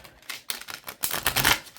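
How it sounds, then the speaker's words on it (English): Tarot and oracle cards are shuffled by hand in quick riffling flurries, close and crisp, ending in a louder burst of rapid clicking as the deck riffles together. "One more shuffle and then we'll..."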